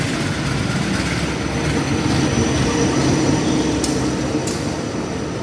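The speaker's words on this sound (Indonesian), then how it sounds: "Lokomotif dinas dari kereta Baturaden ini sudah dilangsir dan akan segera dipasangkan kembali dengan rangkaian kereta" Loud, steady rumble of a locomotive engine idling and moving slowly while shunting at a station, with a couple of brief metallic squeaks near the end.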